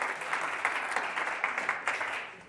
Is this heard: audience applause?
yes